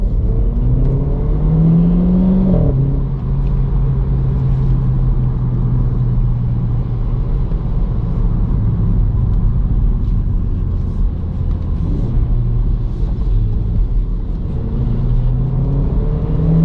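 A RenaultSport Clio 220 Trophy accelerates on greasy roads, heard from inside the cabin. The engine's rising whine climbs, then settles into a loud, steady, rumbling drone with tyre and road noise.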